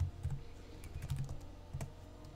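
Keys clatter in quick, uneven bursts on a computer keyboard as photo-editing settings are entered, close and fairly quiet with short pauses, and no voices.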